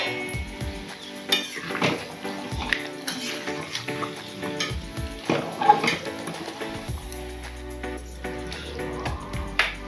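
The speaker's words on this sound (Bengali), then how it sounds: "জাস্ট হালকা হাতে একটু নাড়াচাড়া হবে আর বন্ধ করে দেবো" A spoon stirs chicken in a metal cooking pot, making scattered clinks and scrapes at an uneven pace, with a soft sizzle and some low talk in the background.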